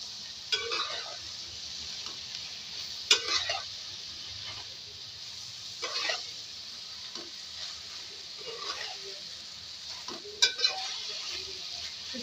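Okra (bhindi) with spices frying over high heat: a soft, continuous sizzle broken every few seconds by short scraping bursts as a utensil stirs the pan, fairly quiet and close.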